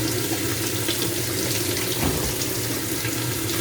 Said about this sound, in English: I always put the pods in with the water's running.